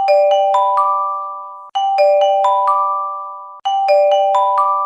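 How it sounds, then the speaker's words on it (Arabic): Tsunami warning siren: rising multi-tone electronic chime pattern of four ascending notes, repeating three times in a loud, clear, stepwise melody. "الصوت ده هو صوت تحذيري بقدوم موجات تسونامي بعد مدة قصيرة"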